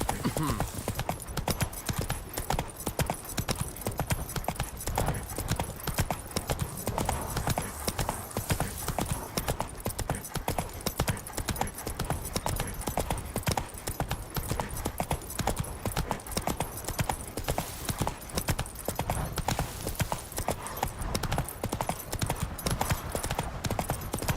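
Roach, a horse in The Witcher 3, gallops steadily throughout with dense, rapid hoofbeats in a continuous clip-clop rhythm, fairly loud and close, layered over game ambience with no talk.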